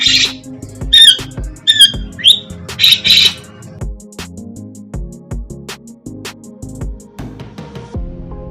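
A long-tailed shrike (cendet) gives loud, close, harsh squawking calls in short bursts during the first few seconds. Quieter clicks and low tonal sounds follow, with no voices.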